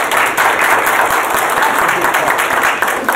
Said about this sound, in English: That's a good clap.